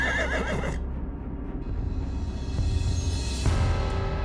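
A cartoon horse kept in a royal stable whinnies loudly and clearly, a long neigh that rises and trails off, with faint hoof clip-clop and background scoring underneath and no talking.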